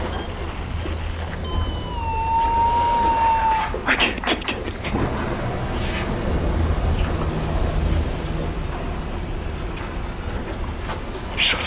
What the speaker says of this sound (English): Then the storm starts to grow more aggressive